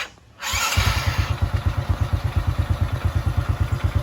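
Honda XRM 110/125 motorcycle engine, after a snapped starter chain was replaced, cranks briefly then catches and runs, settling into a loud, close, steady rhythmic putter with mechanical clatter, no talk.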